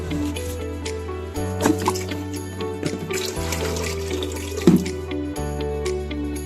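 Water runs steadily from a tap to fill water for bathing, a continuous close splashing with occasional knocks and clatter, set against a sustained tonal hum.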